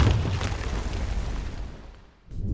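An explosion sound effect for a product shot rolls out as a deep, roaring rumble that dies away, then a fresh burst swells in right at the end, with no talk.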